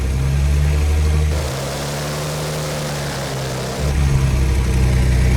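An old abandoned airplane's piston engine running on its mechanical fuel pump, a loud steady drone whose pitch and tone shift midway as the RPM changes, then return.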